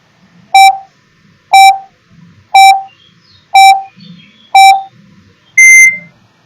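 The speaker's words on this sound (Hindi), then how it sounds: "टाइमर ऑन हो गया आपका।" A quiz countdown timer gives six evenly spaced electronic beeps, one per second, loud and close, with the last beep higher and slightly longer.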